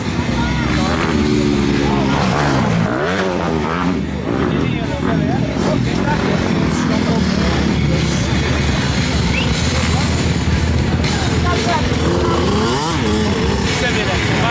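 A motocross motorcycle riding a dirt track in Córrego Fundo revs loud and steady, its engine rising and falling as it goes round, with people talking excitedly close by throughout.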